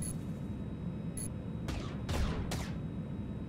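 A few sharp shots fired at an enemy in the space game Starway Fleet, three quick bursts in a row over a steady engine-like hum, fairly soft, with brief electronic chirps before them.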